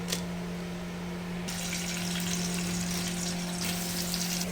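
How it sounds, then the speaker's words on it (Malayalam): Coconut oil goes into a hot pan for a simple chicken curry, producing a continuous close sizzling hiss that grows brighter and louder partway through, with a low steady hum beneath. "ചട്ടി ചൂടായിട്ടുണ്ട് കേട്ടോ. അതിന് വെളിച്ചെണ്ണ ഒഴിച്ചെടുക്കുകയാണ്"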